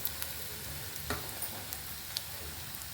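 Crushed garlic, asafoetida and curry leaves fry in oil in a pan, giving a soft, steady sizzle with a few faint pops and ticks.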